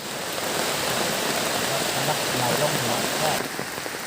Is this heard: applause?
no